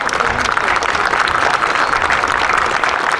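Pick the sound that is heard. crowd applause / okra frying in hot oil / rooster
crowd applause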